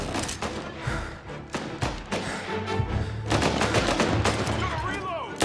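Rapid gunfire crackles through a shootout in the video game Mafia Definitive Edition, with dense bursts of shots and thuds packed close together and building in intensity toward the end.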